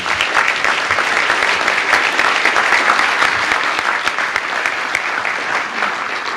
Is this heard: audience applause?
yes